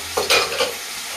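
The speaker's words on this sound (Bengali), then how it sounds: "কড়াইতে নেড়ে নেবো।" Puin leaf pituli is stirred in a frying wok, giving a brief scrape or two over a soft, close sizzle.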